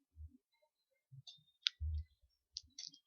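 Computer mouse clicks in a quiet room, a few sharp, soft taps spread out over a few seconds.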